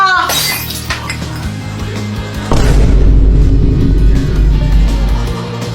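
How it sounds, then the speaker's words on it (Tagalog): A vase breaks with a sharp shattering crash near the start, followed by a loud booming, rumbling stretch. "Kuya Jepoy, nabasag mo yung base ni Mama."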